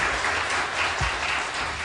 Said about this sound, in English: So give them all a round of applause, and Chuck, thank you for your leadership.